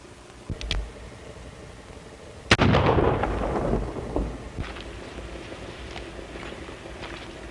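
A single loud gunshot with a long rolling echo cracks out in an old 1933 western film, preceded by faint clicks and followed by quieter rumbling.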